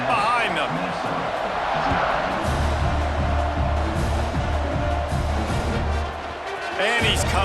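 A stadium crowd roars continuously in EA Sports College Football 26 after a point-after kick. The dense, loud cheering swells under a commentator's voice, with a brief dip near the end.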